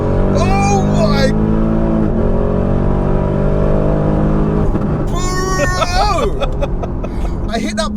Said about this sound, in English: I put my foot down, all four wheels lit up, and it kind of done a power slide forward